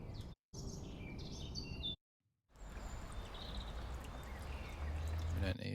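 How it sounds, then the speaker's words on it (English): Birds chirp and tweet in an outdoor morning ambience, several bright calls over a soft, steady wash of background noise, interrupted by short gaps. "Some serious bird."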